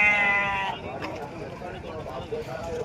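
Sheep bleating at a village market in Purulia, a near, wavering bleat at the start, with people talking throughout.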